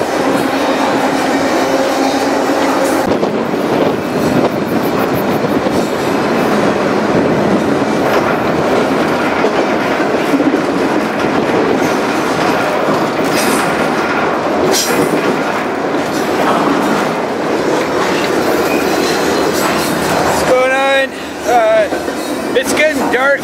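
A freight train rumbles steadily on its rails on the Highline route between Fargo, North Dakota and Whitefish, Montana, with a loud, continuous roar and clickety-clack, heard from aboard, and a brief wheel squeal near the end.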